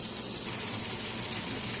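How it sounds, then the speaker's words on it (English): Catfish frying in hot oil on a gas stove, a steady close hiss with fine crackle that holds evenly throughout, with no talking. "it's still frying, so let's give it a couple more minutes on this side"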